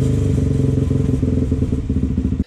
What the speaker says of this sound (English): So you rev it up and you shut off the throttle and it takes a few seconds to settle back down.